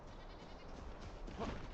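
Goats bleat in the Enshrouded video game, a few faint calls rising near the end over a steady, low in-game ambient bed with no talking.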